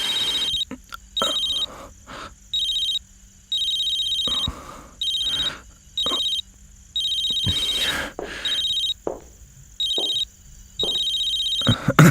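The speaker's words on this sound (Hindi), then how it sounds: "तेरा फोन तो रिंग बज के कट ही जा रहा है" A telephone rings over and over in regular bursts with short gaps, loud and nearby, with faint background noise and no speech.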